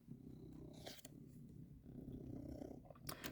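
A cat purrs close up, a low continuous rumbling with a steady rhythm and a few brief rustles, quiet overall and without talk.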